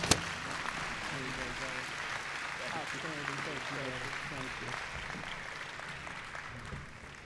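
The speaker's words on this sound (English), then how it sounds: "Let's give Mr. Nathaniel another big round of applause." Audience applause fills a university convocation hall, a steady broadband wash of clapping that holds for several seconds at moderate distance, with a voice speaking over it through the middle.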